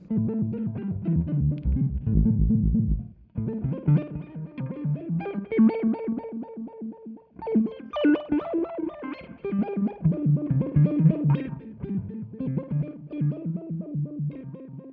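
An instrument sounds through a Time Dilation V5 delay pedal, each phrase trailing off into soft repeats and reverb. The melodic lines are played alone with short pauses between them.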